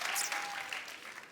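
A studio audience at a comedy talk show applauds as a film director is welcomed on stage, steady, dense clapping that tapers slightly.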